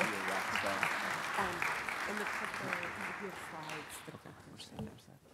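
An audience applauds as panelists from an International Monetary Fund capital markets event walk on stage, with strong continuous clapping that gradually fades, while voices talk over it.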